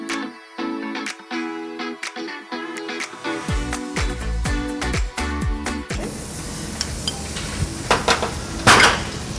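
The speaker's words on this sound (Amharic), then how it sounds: "እሱ ሎር ተደርጎ ተጠቅሎ ወደ መጥበሻ ይጠበሳል" Pans and cutlery clatter in a hotel kitchen, followed by a hissing sizzle as a spinach and cheese stuffed beef roll fries in a pan, with sharp metallic clinks throughout.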